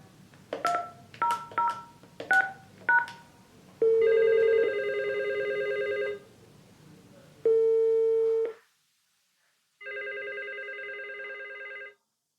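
A Flyingvoice VoIP desk phone dials another extension, giving a quick run of keypad tones followed by repeated electronic ringback bursts separated by short pauses.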